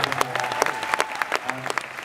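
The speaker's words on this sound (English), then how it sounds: "I want to give a round of applause to them for making it happen" Applause from an audience at a beer seminar at Epcot, many hands clapping steadily and densely throughout, with scattered louder claps.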